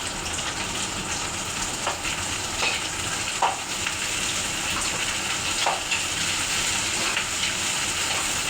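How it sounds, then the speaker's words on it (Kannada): Goat tripe (boti) frying in a pan gives a steady, even sizzle that runs throughout, with a few soft stirring clicks and no talking. "ಬೋಟಿ ಫ್ರೈ ಮಾಡ್ತೀನಿ ಗೈಸ್."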